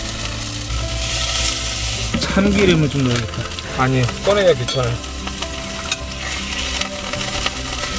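Meat stir-fried in a pan sizzles and crackles steadily throughout, with clinks and scrapes of utensils against the pan midway, while a person talks over the cooking.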